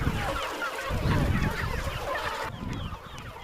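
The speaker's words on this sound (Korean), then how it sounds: "한눈에 보기에도 꽤 많은 수의 닭들" Free-range chickens roaming a hillside farm, a dense chorus of clucking and squawking fowl calls layered over steady outdoor background noise.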